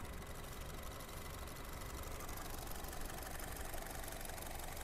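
A used Honda car engine, either a 2015 Jazz RS or a 2012 Freed, idling smoothly with a steady, even mechanical hum and faint rattle, close and continuous with no voices.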